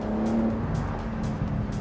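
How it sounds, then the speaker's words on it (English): A BMW M4 Competition Convertible's exhaust note, a loud, steady low engine drone heard briefly from on board with road and tyre noise, no talking. "The exhaust note comes in really nicely."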